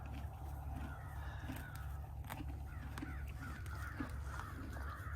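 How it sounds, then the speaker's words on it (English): Several crows caw outdoors at moderate distance, scattered calls answering one another over a steady low hum, with no talking. "Here are the crows."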